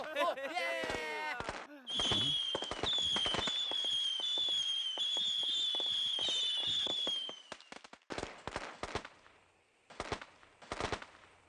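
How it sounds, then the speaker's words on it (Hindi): Rapid strings of firecrackers crackle and pop, with a high whistling whine in the middle, then scattered sharp bangs trailing off. "जिस तरह पटाखे फूट के इधर उधर बिखर रहे हैं"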